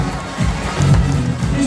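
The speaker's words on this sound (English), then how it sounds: "Come and give these two a nice big cheer, everybody." A game show audience gives a brief, moderately loud cheer with scattered thumps, mixed with people talking over it.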